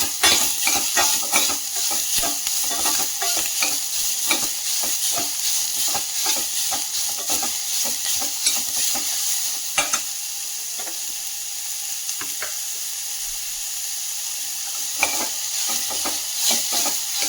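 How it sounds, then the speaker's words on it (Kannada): Onion, cumin and curry leaves sauté in a pan for mint buttermilk, a constant bright sizzle broken by many quick scrapes and taps of a spoon stirring against the metal. "ಸ್ವಲ್ಪ ಜೀರಿಗೆ, ಕರಿಬೇವಿನ ಸೊಪ್ಪು, ಈರುಳ್ಳಿಯನ್ನು ಹಾಕಿಬಿಟ್ಟು ಕಂದು ಬಣ್ಣ ಬರುವವರೆಗೂ ಸ್ವಲ್ಪ ಬಾಡಿಸ್ಕೊಳ್ತಿದ್ದೀನಿ"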